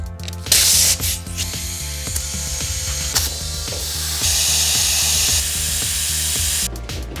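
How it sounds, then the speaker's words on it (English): An air compressor runs steadily, loud and close, with a rhythmic mechanical clatter underneath, while hissing bursts of air fill the tires of a project car. "Let's fill these tires up."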